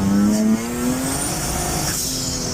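Turbo V6-swapped Honda Civic accelerating at half throttle during drag strip prep, a loud engine tone rising in pitch with a turbo whistle above it, a drop in level after the first half second, and no talking.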